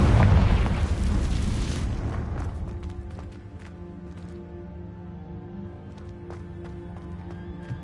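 A loud fiery Confringo spell blast in Hogwarts Legacy, a heavy roaring explosion that rumbles and slowly fades into crackling debris and scattered small pops.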